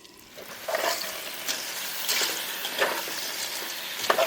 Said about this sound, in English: Heating up a little butter and oil right now to fry the steak and the garlic and onion and the shells